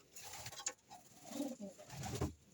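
Stock pigeons kept by a bird breeder coo softly nearby, a few low rolling coos repeating over a quiet background with no talking.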